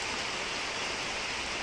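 Steady, heavy rain pours in cold weather, a dense, even hiss with no pauses or voices over it.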